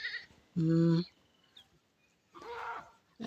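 Two goat bleats, one strong and nasal around the middle, a second longer one later, with quiet outdoor ambience between, in the overgrazed Opiroi hills of Samburu, Kenya.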